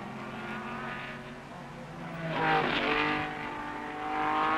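A blue and orange Ford Mustang saloon race car at over 140 mph on the Norwich Straight in the 1968 British Saloon Car Championship, its engine roaring steadily and swelling louder as it passes.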